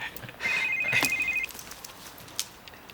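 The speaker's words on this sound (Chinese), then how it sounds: "歹势哦，我接一个电话。" A telephone rings in a quiet indoor room, a single steady electronic ring of about one second that then stops, leaving faint background hush.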